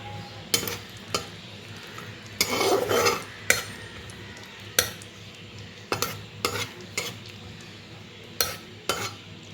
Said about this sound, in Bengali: এবারে কাজু কিশমিশটা আমি একটু ভেজে নেব।